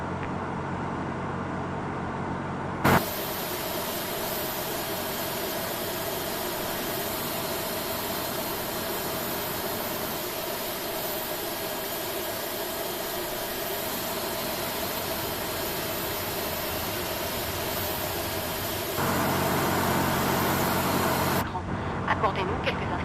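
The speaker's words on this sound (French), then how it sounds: "Starting engine 2." An Air France airliner's engine 2 spooling up during pushback, a loud steady roar and hiss that holds for many seconds and then swells louder near the end.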